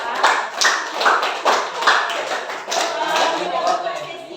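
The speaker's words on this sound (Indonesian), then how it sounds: "Kita kasih aplaus untuk kelompok 4" Classroom applause for a student presentation group, several bursts of hand clapping from a group in a room, rising and falling across the clip.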